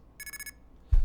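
A red box plays payphone coin tones for a quarter, a rapid train of five short, high beeps, followed by a louder low thump at the end.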